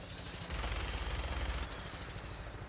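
Rapid automatic gunfire in Fallout 4, a dense, loud burst of shots lasting about a second amid ongoing game ambience.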